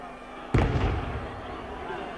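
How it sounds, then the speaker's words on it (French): A Corsican cannon fires outside the stadium during a 1977–78 UEFA Cup semi-final second leg in Bastia: one sudden loud boom, rumbling with crowd noise beneath, then a fading reverberant tail. "c'est le canon corse qui tonne, mais hors du stade"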